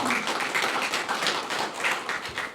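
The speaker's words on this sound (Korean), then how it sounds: "뜨거운 박수 부탁드립니다" Sustained applause from an audience at an appointment ceremony for the second president of a national youth federation, dense clapping filling the hall steadily with no speech over it.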